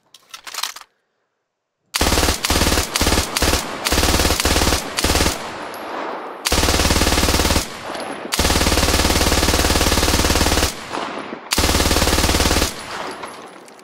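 An MG3 machine gun fires in the video game Squad, first in a few short separate bursts, then in long sustained rattling strings broken by brief pauses, loud and close with no talking.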